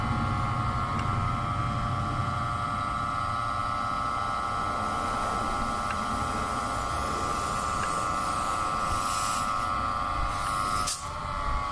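An Autool STD-206 smoke leak detector's pump runs while building pressure, giving a steady, loud, even hum with a faint buzzing tone that holds throughout and wavers briefly near the end.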